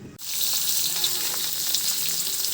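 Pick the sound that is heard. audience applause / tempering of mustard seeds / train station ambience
tempering of mustard seeds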